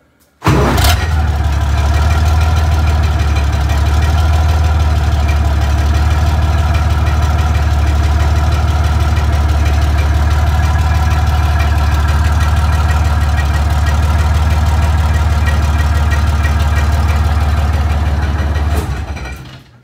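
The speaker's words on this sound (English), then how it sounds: "He's going to just start that engine." A Sherman tank engine rumbles steadily at idle, loud and close, with a deep low-end drone running unbroken for nearly twenty seconds before cutting off.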